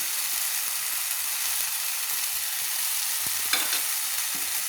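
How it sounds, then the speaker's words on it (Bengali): Green chili paste frying in a pan for Bengali rui posto, a steady hissing sizzle under a couple of brief stirring scrapes, moderately quiet and without speech. "আবারও ভালো করে নেড়ে নিচ্ছি।"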